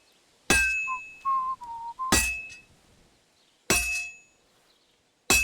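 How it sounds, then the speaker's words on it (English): Loud whistling from a blacksmith scene in the Kingdom Come Deliverance II video game: a wavering whistled tune between bright metallic clangs of hammer on metal, three sharp strikes ringing out at intervals. "That whistling's loud."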